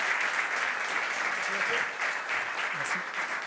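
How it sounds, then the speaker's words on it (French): A conference audience claps for a speaker, a brief, steady wash of applause from many hands at moderate level, with a faint voice or two underneath. "j'aimerais qu'on applaudisse encore une fois notre premier conférencier de la soirée, Jean-Sébastien Janotte de Netflix."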